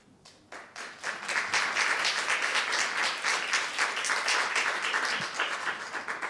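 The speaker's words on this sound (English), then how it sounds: "I think this is worth an applause for being read so wonderfully by Verena Noll" Audience applause follows a literary reading, starting with a few scattered claps and swelling into steady, moderately distant clapping that continues to the end.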